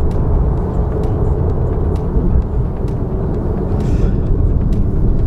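Steady, loud low rumble of a car interior while driving, a continuous road and engine drone with no breaks and no speech.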